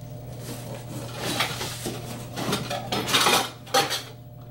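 A 22 ounce metal cook pot is handled on a prototype hybrid-base remote-wick camp stove, producing close clanks, scrapes and rattles of metal on metal. A few brighter knocks stand out near the end, with no talking.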